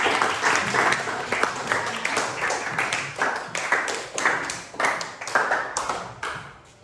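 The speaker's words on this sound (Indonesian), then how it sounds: "tepuk tangan dulu untuk teman-teman kalian tadi" Junior high school students clapping in a classroom for classmates who just presented, uneven, separate bursts of hand claps rising and falling in waves, fairly close and lively.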